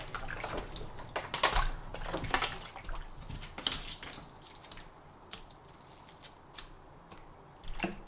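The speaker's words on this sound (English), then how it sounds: "Now just plop them all in here." Dog harnesses dropped into a basin of hot water mixed with fabric softener, giving several soft splashes and sloshes with scattered clicks of buckles at close range.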